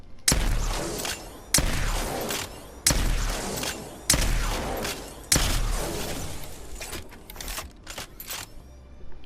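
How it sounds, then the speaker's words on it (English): Repeated loud blasts from the Peacekeeper shotgun in Apex Legends, each followed by mechanical lever-cycling clicks, about five heavy shots at a steady rhythm and then lighter clacks toward the end, with no talking. "I love the sound of the lever going back and forth"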